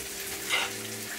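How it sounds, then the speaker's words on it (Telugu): Chicken pieces fry in hot oil for a cashew chicken fry, giving a brief, faint, steady sizzle with a slight swell in the middle. "చికెన్ ముక్కలు అయితే చక్కగా ఉడికిపోయిందండి, మంచిగా ఫ్రై అయిపోయింది"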